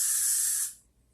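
A single short burst of hairspray hisses loudly for under a second, sprayed from far back onto styled hair, then cuts off into quiet.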